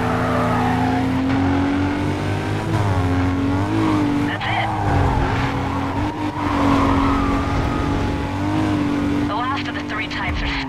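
A race car speeding in Need for Speed: Carbon, its engine droning at high revs with rising and falling pitch and tire squeal, loud and continuous while someone talks over it.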